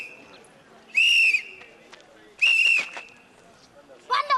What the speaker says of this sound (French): On vient de siffler le rassemblement.